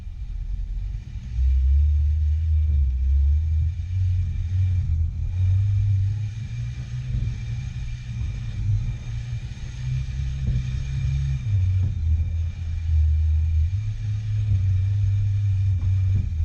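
Electric motor fitted in a Porsche 911 conversion spinning the wheels, heard as a continuous low droning hum that rises and falls in pitch as it runs, steady and fairly close, with no voices.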